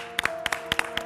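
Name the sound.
applause from studio audience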